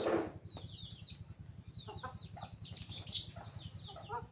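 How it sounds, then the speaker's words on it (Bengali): A chicken clucks nearby in a series of short, rapid calls over a low steady background hum, fairly quiet and without talk. "আর একটা আমাদের মুরগি আছে, ও একাই এসে পায়ের মধ্যে ঠোকর মারবে"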